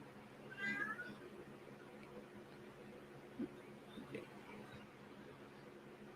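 A cat meows faintly once near the start, distant and soft beneath a low background hum in a room, followed by scattered small knocks.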